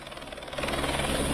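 Rescue helicopter flying over Kedarnath during a flood evacuation, a steady whirring rotor and engine drone with a rhythmic chop that grows louder midway and holds, with no talk.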